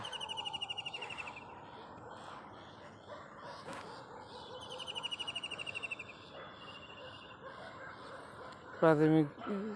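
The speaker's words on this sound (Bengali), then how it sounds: "নিশ্চয়ই পাখির ডাকটা শুনতে পাচ্ছেন।" Birds chirp and call outdoors in a natural rural setting, with bursts of rapid tweeting near the start and middle and a louder, sharper call near the end, over a steady background of ambient noise.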